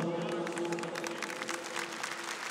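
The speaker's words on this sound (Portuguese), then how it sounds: "nós Te aplaudimos com amor" A congregation applauds during a Catholic church service, steady crowd clapping under a sustained sung or held tone, moderately loud and continuous throughout.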